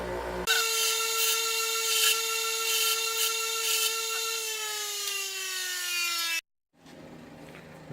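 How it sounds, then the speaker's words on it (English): A grinder cleans slag off welded holes on a 1950 Pontiac wiper motor part, holding a loud steady whine for about six seconds before its pitch sags. It then cuts off abruptly and a quiet shop background follows. "Now I'm going to go ahead and clean up the holes real quick just with my grinder."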